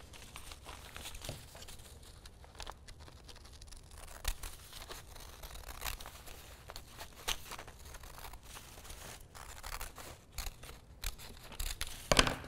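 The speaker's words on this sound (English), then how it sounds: "and then you're going to just trim that off" Scissors trimming cotton tee fabric for a flutter sleeve, a quiet close series of irregular snips and soft fabric rustles with small crinkles, no talk.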